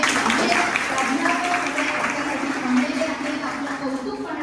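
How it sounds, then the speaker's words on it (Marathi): Students applaud in a Marathi-language classroom event, a fairly soft sustained patter of clapping lasting the whole moment, with some crowd murmur. "एकदा जोरदार टाळ्या झाल्या पाहिजे"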